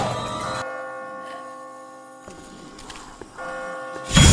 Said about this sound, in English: I just got spooked by those bells